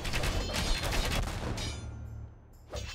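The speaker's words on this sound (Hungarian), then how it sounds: "A frankoknak van orgona ágyú" A Frankish organ gun fires in Age of Empires II Definitive Edition, a dense, crackling volley of gunfire that rolls on for over a second, fades out, then bursts again briefly against the game's background.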